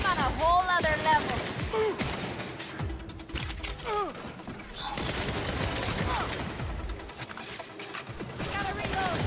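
Gunfire from enemies in the video game Saints Row on PS4, sustained bursts and crackling shots running through most of the stretch amid dense game effects, with people talking over it.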